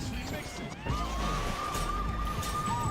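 Police sirens wail in the Armored Core video game, a rising and falling tone under dense combat noise and rumble, steady and moderately loud throughout.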